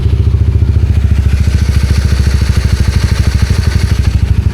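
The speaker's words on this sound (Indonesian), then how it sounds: "Nah untuk suara mesin masih oke." A motorcycle engine runs at a steady idle, loud and close, with a fast even chugging pulse and slight mechanical clatter, and no one speaking.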